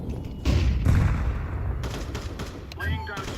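Grenade and flashbang blasts in a video game, heavy booms and a rumble near the start and again toward the end, with game noise continuing between them.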